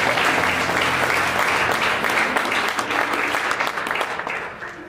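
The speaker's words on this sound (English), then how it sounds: "Come on, let's give him a round of applause." Applause from mourners at a memorial service, loud sustained clapping from a crowd that eases slightly toward the end.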